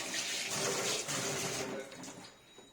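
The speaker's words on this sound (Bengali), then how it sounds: "আমি কেওড়া জল দিচ্ছি।" Kewra water is poured into a cooking dish as a short, close, splashy trickle that fades out after a couple of seconds.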